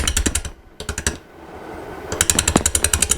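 A gouge cuts a wooden bowl blank spinning on a wood lathe, producing loud, rapid rhythmic chattering bursts that break off briefly and then resume harder.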